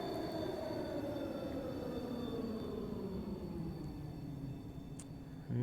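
A subway train on the Bakerloo Line in the Virtual Underground video game brakes into a station: a steady, close rumble with a whine that slowly falls in pitch as it slows, with no voices.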